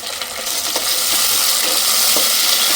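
Curry leaves and tomatoes fry in hot oil for a pressure cooker chicken biryani, a steady loud sizzle with a few crackling pops and light stirring clinks, no talking.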